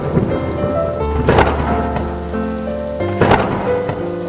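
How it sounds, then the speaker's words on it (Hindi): Steady heavy rain with booming thunder swells twice, layered under sustained musical tones, with no speech. "तभी बारिश और तेज हो गई।"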